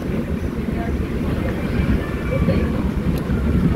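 A moving train rumbles with a steady low, dense roar heard from inside a carriage, continuous and fairly loud throughout, with no clear talking.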